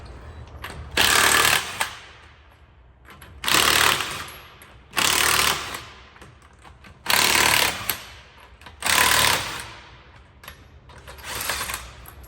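An impact wrench fitted with a 21mm socket tightens wheel spacer nuts on an Infiniti M37S, firing five loud hammering bursts of about a second each, separated by quiet gaps, with a sixth fainter burst at the end.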